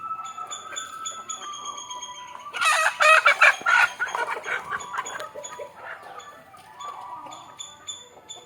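A country rooster lets out a loud, strained crow amid a flock's scattered clucking, with chirping birds in the background.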